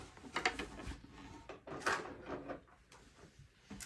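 A desk drawer slides open while someone reaches in for gel pens, giving a few soft wooden scrapes and knocks close by with short rummaging clatters.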